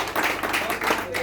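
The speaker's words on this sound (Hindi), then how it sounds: "आप लोग के जोरदार तालियां" An audience at a network marketing business event claps and cheers in a loud, dense burst of applause lasting a little over a second, steady throughout with no pauses.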